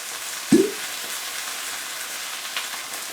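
Sauces poured into a hot pan of frying onions give one short, sharp sizzle that quickly dies away, leaving a faint, steady frying hiss for the rest.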